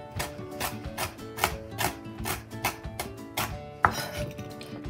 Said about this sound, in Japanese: それで全部刻んでいきます。